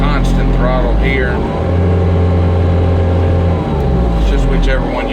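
A Bobcat T870 track loader's engine revs loud and close under foot-pedal throttle, rising and falling steadily through the clip while someone talks over it.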